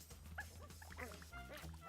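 A dog in the video game Pizza Possum gives short yips and whimpering barks amid game music and a low drone, all at low volume.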